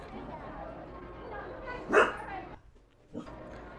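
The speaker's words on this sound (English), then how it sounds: "And our dog is with us tonight here in the room." A dog in a room barks once loudly, then gives a fainter yip a moment later, over background voices and room noise.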